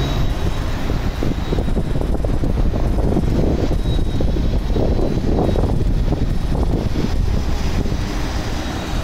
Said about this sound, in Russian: Квадрокоптер запустил моторы и поднялся на высоту где-то метр.